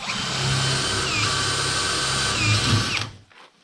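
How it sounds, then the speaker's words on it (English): A power drill whirs steadily while pre-drilling during a basement rough-in, running loud and close for about three seconds before stopping abruptly. "again, pre-drilling"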